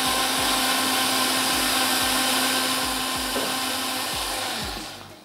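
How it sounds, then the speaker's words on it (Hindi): A blender whirs steadily and loudly as it mixes a drink with sugar, the motor winding down just before it stops. "हमने इसको मिक्स करके ब्लेंड कर लेना है"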